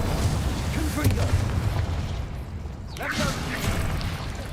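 Hogwarts Legacy spell blasts, Bombarda and Confringo, in the video game: a couple of booming explosive bursts with whooshing magical effects over a dense game soundscape, loud and near.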